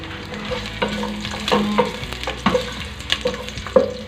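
Oil sizzles steadily as garlic and ginger fry in a pan, with repeated scraping and stirring clatters throughout, fairly close and moderately loud.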